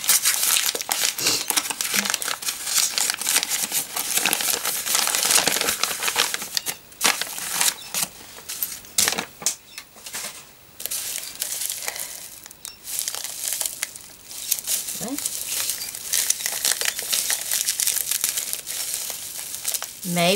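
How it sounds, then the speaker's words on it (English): Wrapping paper is crumpled and torn almost nonstop as gifts are unwrapped, a loud, dense crinkling close by with sharper rips scattered throughout. "I'm making a real mess out of wrapping paper"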